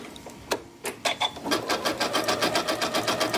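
Sewing machine running a zigzag stitch along the edge of a tote bag, starting with a few separate stitch bursts, then settling into a steady, fast, even rhythm, close and fairly loud.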